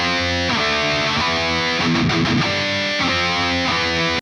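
Heavily distorted electric guitar chugs through a breakdown riff, thick power chords in a repeated pattern, loud and close with no speech over it.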